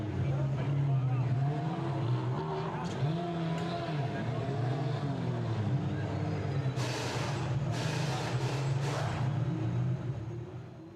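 GT4 race car rolling down the pit lane at Hockenheim during qualifying, a steady engine drone that rises and falls in pitch, fairly distant with brief bursts of noise near the end.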